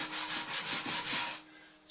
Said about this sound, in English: I can get some finish sanding done on this thing